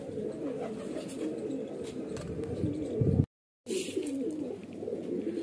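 Highflyer baby pigeons coo steadily from close by on a rooftop, a soft throaty burbling that runs on continuously, with faint chirps scattered above and no talking.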